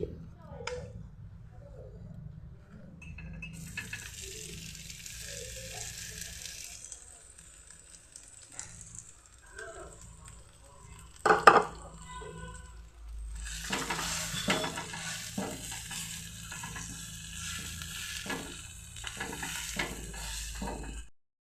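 Potatoes tipped into hot oil with whole cumin sizzle and fry for a Bengali stuffed bottle-gourd-leaf roll filling, a steady crackle with stirring and pan clatter, one sharp clang near the middle and a louder burst of frying afterward.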